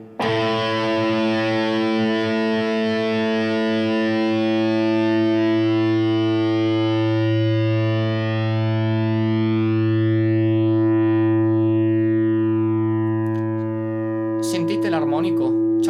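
Electric guitar played through Bias FX 2 mobile amp and effects software, a distorted, sustained chord with a ringing harmonic blooming over steady low notes, loud and continuous, ending in a brief scratchy burst.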